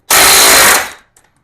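A 24 mm rear axle nut on a Lifan KPT 400cc motorcycle breaks loose with one loud, harsh mechanical burst lasting under a second. A faint click or two follows in the quiet.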